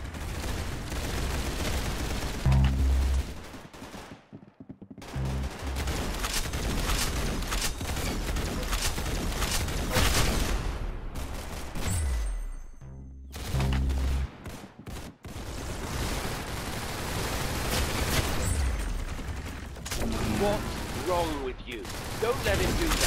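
Rapid bursts of gunfire from the Roblox shooter Arsenal crackle in dense volleys, broken by a few short silent gaps, with a voice talking over the shooting at times.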